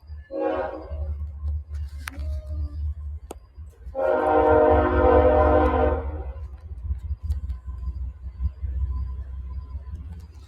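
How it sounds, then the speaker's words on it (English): A train passes outside, its horn sounding once in a short burst and then in a longer blast of about two seconds, over a steady low rumble of the moving cars. "And now a train coming."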